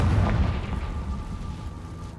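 A Confringo blasting spell explodes in Hogwarts Legacy on PS5, giving a deep, loud boom at the start that fades into a low, rumbling tail.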